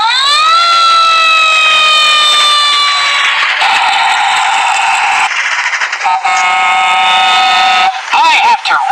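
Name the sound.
fire engine siren of the character Flynn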